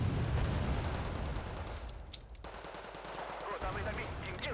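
Battle gunfire rattles in Wargame Red Dragon as mortar units come under fire: dense bursts of automatic shots and thuds, with a brief quieter lull midway before the fire resumes.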